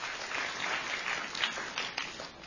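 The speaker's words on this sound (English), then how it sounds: "Give a good clap to all of them." Church congregation applauding after a sermon, a steady wash of many hands clapping at moderate distance for a couple of seconds, no talking over it.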